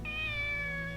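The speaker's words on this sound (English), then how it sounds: "Just stare at this random kitten." A kitten in the video game Shenmue gives a single drawn-out meow, clear and close, heard alone.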